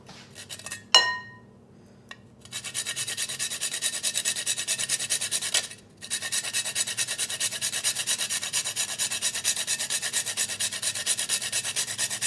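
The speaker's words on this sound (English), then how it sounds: "I'm just gonna grab my nutmeg and I'm gonna grate some in here" Whole nutmeg grated by hand over a dish, a steady continuous rasping scrape running for about ten seconds with one brief pause, close and fairly loud, preceded by a few light clicks.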